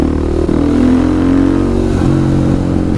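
KTM 500 EXC supermoto fitted with an FMF Factory 4.1 RCT exhaust revs loudly and steadily up close, its engine note rising and holding with a slight dip midway through the burst.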